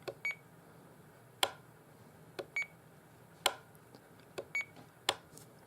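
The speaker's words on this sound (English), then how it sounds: "those are longer beeps" A Taranis Q X7S radio transmitter sounds short electronic beeps alone in a quiet room, a few scattered pairs of high tones with small clicks, some slightly longer than others.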